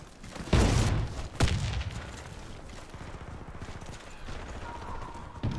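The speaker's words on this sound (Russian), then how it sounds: "Кидаю гранату!" In the shooter game Warface, a thrown grenade detonates with a loud boom, then a second sharp blast follows and rapid gunfire rattles on as a dense, fading fusillade, with no one speaking.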